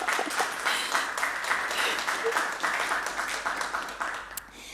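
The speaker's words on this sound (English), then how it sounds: "a big applause for Fabian and Veronica" A conference crowd at an applied AI stage event applauds the hosts with dense, continuous clapping that holds steady and then tapers slightly at the end.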